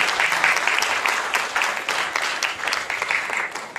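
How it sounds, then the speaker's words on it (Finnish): Audience at a Miss Twang & Twist rautalanka pageant in Nastola applauds contestant number one, a dense steady wash of many hands clapping at moderate distance, sustained evenly throughout with no voices. "Annetaan aplodit tyttö numero 1."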